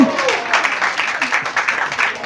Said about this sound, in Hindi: चलिए एक तालियां उस बात पे हो जाए।